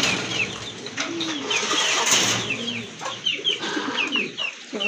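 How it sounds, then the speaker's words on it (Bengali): A pair of Mundian fancy pigeons coo softly and repeatedly at close range. Chicken-like clucks, chirps and faint clattering from a busy bird enclosure sound beneath them, with no talk. "আরেক জোড়া মুন্ডিয়ান কবুতর এখানে রয়েছে, খুবই সুন্দর।"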